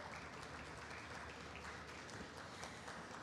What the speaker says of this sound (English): Please applause as she comes up